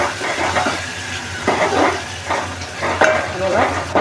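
Onion softening in a hot pan for sambar, a close steady sizzle with rhythmic stirring strokes and scrapes roughly every half second.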